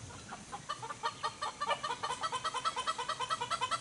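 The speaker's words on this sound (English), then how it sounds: "That rooster there, he's kind of mean." Steady, rhythmic clucking from a nearby rooster on a homestead, a rapid run of short repeated calls growing more regular, with no talking.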